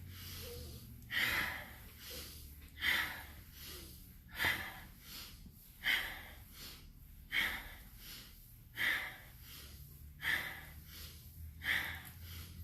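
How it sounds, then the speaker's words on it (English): Slow, steady breaths during a yoga spinal-rocking exercise repeat about every one and a half seconds, each a clear airy inhale or exhale, close and unhurried over a faint background hum. "So breathing, inhaling forward, exhaling back."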